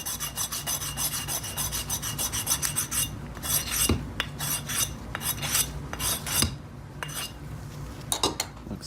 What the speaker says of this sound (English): We'll go ahead and sand the treads a little bit. Get them nice and flat.